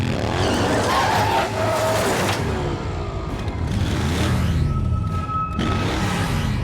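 An animated cartoon vehicle brakes hard and skids, its engine roaring loudly with screeching, squealing tires and swooshing passes. The action is dense and close, with a brief shouted voice.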